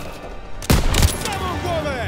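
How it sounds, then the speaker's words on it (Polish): Cannon fire in Call of Duty: WWII, a loud close blast with a booming low-end impact and crackling gunfire trailing after, over continuous battlefield rumble. "Działo wciąż strzela!"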